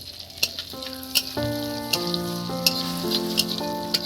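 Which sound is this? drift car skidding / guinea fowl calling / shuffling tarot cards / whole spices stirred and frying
whole spices stirred and frying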